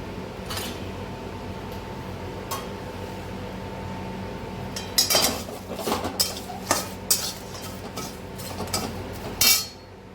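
Black stone flower and bay leaf roasting in a little oil, with a steady background hum and, midway, a cluster of close metallic scrapes and clinks of a spoon against the pan.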